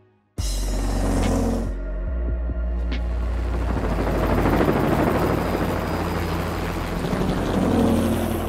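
A helicopter demo sound played on a 2024 Samsung Neo QLED 8K 65-inch smart TV: loud, throbbing rotor noise starts abruptly and sweeps past, swelling and fading.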